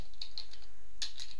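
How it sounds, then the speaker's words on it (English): Short bursts of typing on a computer keyboard while filling in a form, a handful of quick close key clicks in two small clusters. "And if I type in first name,"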